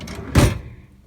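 A kitchen drawer in a Fun Finder X RV slides open in a single short, close rumbling thud.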